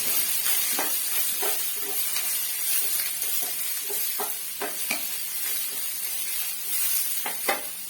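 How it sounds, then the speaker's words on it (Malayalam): Sliced onions frying in a pan for a prawn fry, a loud hissing sizzle with frequent crisp stirring scrapes scattered through it. "സവാള ഉള്ളി ഒന്ന് കൈ കൊണ്ട് ഒന്ന് നേരിട്ട് ഇട്ട് കൊടുക്കാം. നന്നായിട്ടൊന്ന് ഇളക്കി"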